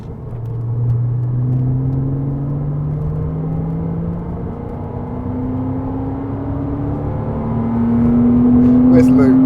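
A base Porsche Cayman accelerates on the Goodwood track, its engine note climbing through the gears in steady rising sweeps inside the cabin, loud and continuous.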